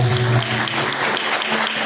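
A church congregation claps together in praise during a live worship service, a thick continuous wash of hands with a low hum underneath, loud and alone for about two seconds.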